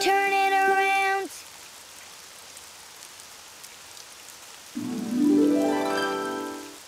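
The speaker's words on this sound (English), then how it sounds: "Oh, it's raining outside." Rain in the Daniel Tiger's Neighborhood video game, a soft, steady hiss of falling drops, framed at the start and end by bright, tonal voice or musical sounds.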